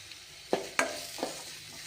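Curry leaves and cashews sizzle in hot oil in a pan, with a soft steady hiss broken by a few quick scraping stirs, close and fairly quiet.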